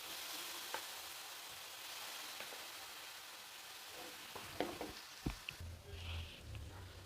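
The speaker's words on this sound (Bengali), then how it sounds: "গাজর খুব ভালোভাবে ঘির সাথে একটু ভেজে নেব যতক্ষণ না গাজরের কাঁচা গন্ধটা চলে যাচ্ছে।" Grated carrot fries in hot ghee for carrot kheer pathishapta: a continuous close hiss of sizzling, joined later by several stirring scrapes and knocks in the pan.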